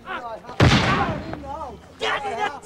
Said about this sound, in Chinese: 拔枪就射。